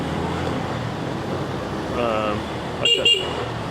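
A short horn honk near the end, two quick toots over steady traffic and street noise.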